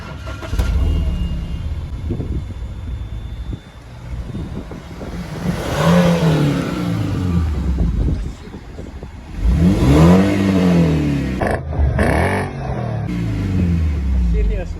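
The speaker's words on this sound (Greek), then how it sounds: "Μετά πατώ το κουμπί αυτό και ξεκίνησε η M3 V8 μηχανή" A BMW M3 E93 V8 engine cranks and fires up at the push of a button, then revs loudly in a couple of rising and falling surges, with people talking over parts of it.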